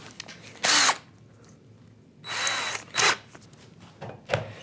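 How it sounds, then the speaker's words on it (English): A power drill fitted with a 3mm bit drills holes in a router plane kit, sounding as several short, sharp bursts of whirring separated by quiet pauses, close and clear. "So let's lock this in the bit in the drill."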